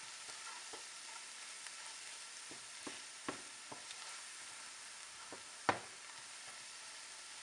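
Pav bhaji masala fries in oil or butter in a pan, a quiet continuous sizzle broken by scattered spoon taps and one sharper clack of stirring; no one speaks.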